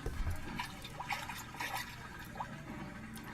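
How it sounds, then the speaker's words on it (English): Air bubbles leak slowly from an inflatable raft sitting in water inside a culvert tunnel. Faint, irregular bubbling pops and gurgles sound over a low, hollow background hum. "You can hear the bubbles bubbling. But it's slow. It's a slow air leak."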